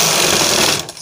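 A sewing machine stitches folded fabric for a size 36 bra, a loud close rapid whirring run that stops abruptly near the end.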